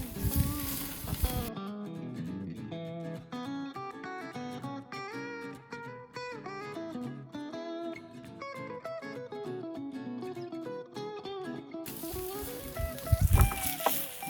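Tomahawk steak fat searing on a Big Green Egg grill, a crackling sizzle heard briefly at the start and again near the end, with music playing loudly in between.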